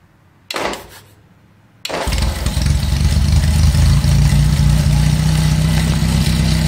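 A 1948 Ford Prefect engine fitted to a homemade tractor, freshly serviced with new plugs and a cleaned carburettor, cranks briefly, pauses, then catches and settles into a steady, loud, close idle.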